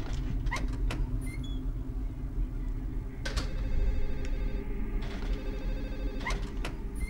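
A telephone rings in the video game Silent Hill 4, several sharp bursts of ringing spread across the scene over a low, droning ambient hum, fairly quiet overall with no voices.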